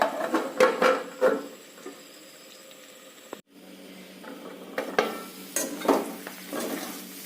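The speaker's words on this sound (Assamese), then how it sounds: "ঢাকনি লগাই লগাই ভাজিব তেতিয়া" Pigeon meat fries in oil in a pan and is stirred, making a steady sizzle broken by repeated scraping strokes and a brief pause.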